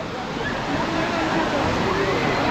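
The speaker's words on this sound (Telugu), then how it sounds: "సో గాయ్స్ చూడండి, చాపరాయి వాటర్ ఫాల్స్" The Chaparai waterfall in the Araku valley roars steadily, a dense broadband rush of falling water heard up close and loud, unbroken throughout.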